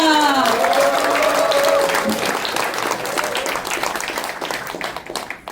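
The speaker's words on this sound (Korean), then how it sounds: "더불어민주당 소속 후보들 5분에게, 출마 예정자 5분에게 큰 박수 부탁드립니다" Audience applause at a Democratic Party of Korea gathering for five prospective candidates in Suncheon, a dense burst of clapping that fades slightly over a few seconds, with voices and tonal sounds at the start.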